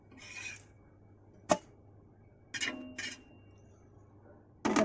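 A plate and metal utensils clink and clatter as crisp thinai adai, a foxtail millet pancake, is lifted off the pan, with sharp isolated knocks and short scraping clatters separated by quiet gaps.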